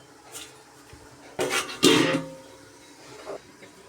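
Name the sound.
covering a cooking pot with its lid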